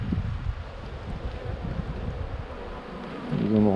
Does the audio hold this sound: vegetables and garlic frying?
no